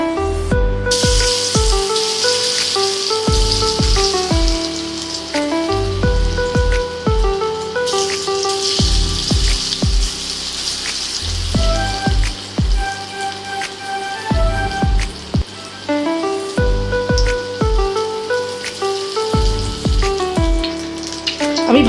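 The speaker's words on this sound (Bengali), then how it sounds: "আমি ভালো করে এপিট ওপিট করে নেড়ে নেড়ে লাল লাল করে ভেজে নেব।" Soybean chunks frying in hot oil in a pan, a loud steady crackling sizzle throughout, with background music playing and no talking.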